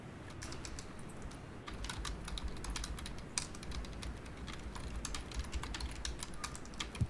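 Computer keyboard typing during an online tabletop role-playing session, a steady rapid patter of close key clicks running throughout over a low background hum, with no talking.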